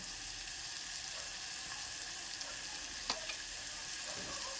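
Tomato pieces and chopped curry ingredients sizzle and fry steadily in a pan with salt, a constant hiss with a few faint clinks, no voices.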